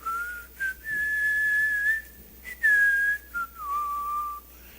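A gentle, melodic whistle drifts through a few sustained and sliding notes with brief pauses, clear and fairly close, standing in for the still small voice of God and carried without any talking.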